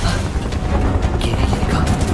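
Gunfire from Final Fantasy VII Remake comes as a loud, busy wash of shots and impacts over a heavy low rumble, sustained across the short stretch.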